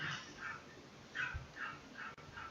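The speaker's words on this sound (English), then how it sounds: "Please pardon the dog barking in the background." A dog barks and yips from its kennel, several short whimpering barks in an irregular rhythm, fairly close and clear, with no talk over them.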